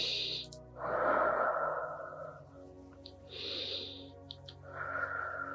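Slow, deep breathing during a yoga hip-flexor stretch: two or three long, audible inhale and exhale cycles, close and soft, with faint tonal sounds in the background.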